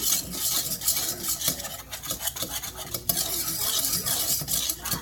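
A utensil scrapes and stirs a butter roux for gravy in a pan, with rapid repeated strokes over a soft sizzle, close and loud with no talk.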